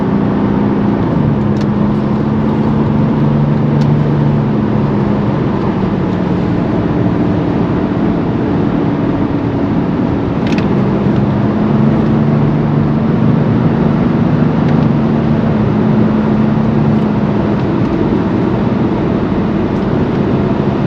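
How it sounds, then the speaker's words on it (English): A 1987 Mercedes-Benz 300SDL accelerating on a road, heard from inside as a steady loud engine drone with rising and settling tones over constant road and wind roar, with no talking. "nice strong acceleration"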